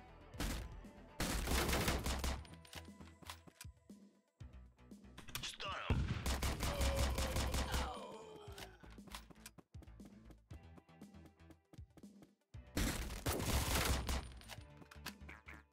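Bursts of gunfire from the SWAT video game Door Kickers Action Squad, several loud rapid volleys separated by brief quieter gaps, with softer game effects in between.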